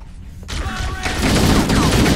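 Gunfire in the video game Halo CE Anniversary: a loud, dense barrage of overlapping shots and bursts that thickens after a brief quieter start, with game voices shouting underneath.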